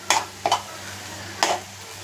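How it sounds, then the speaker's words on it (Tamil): A pan of spinach and egg is stirred after grated coconut goes in, giving three short scraping, rustling strokes close by, two quick ones together and then a single stroke after a pause, with no talk. "இப்போ தேங்காய் பூ போட்டு கிண்டி விட்டுடலாம்."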